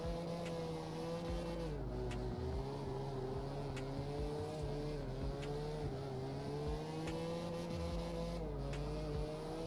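Mazda RX7 FC in CarX Drift Racing spinning and drifting, a steady loud engine drone with shifting pitch and tire noise running continuously without talk.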